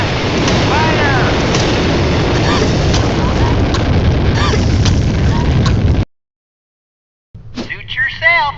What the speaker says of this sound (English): Test fire will commence in T-minus 10 seconds. 9, 8, 7, 6, 5, 4, 3, 2, 1, fire!